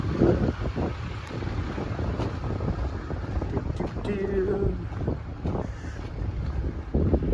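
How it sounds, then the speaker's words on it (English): Steady wind rushes and buffets across the microphone outdoors beside a 2024 Kenworth T880 truck, a continuous blustery roar with faint background sounds. "It's a little windy out."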